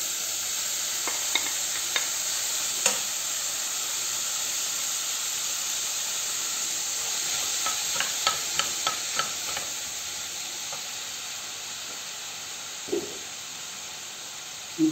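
Onion frying in a pan, a steady soft sizzle and hiss with scattered light scraping clicks of stirring, faint and close, with no talking.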